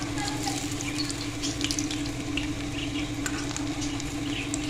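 Chicken cutlets (Russian kabab) fry in a little oil with a steady, soft sizzle and faint crackle that carries on without a break.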